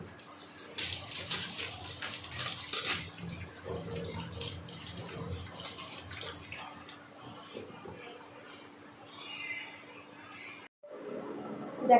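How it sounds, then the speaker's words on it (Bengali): Potatoes being washed in water, with splashing and running water from a tap, moderately close, ending with a short break and then more water. "চলো এরপর আলুগুলো ভালো করে ধুয়ে নেবো"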